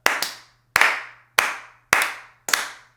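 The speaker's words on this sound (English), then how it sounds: "go ahead and do some clapping" Five sharp hand claps, close and evenly spaced about half a second apart, made to check audio latency for an OBS recording, each with a short decaying tail over a faint steady hum; nobody talks.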